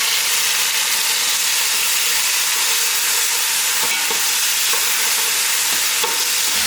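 Chopped onions and three tomatoes fry in a pot for a large batch of mutton gravy, a steady close sizzle running throughout with faint scraping stirs and occasional light knocks, no voices.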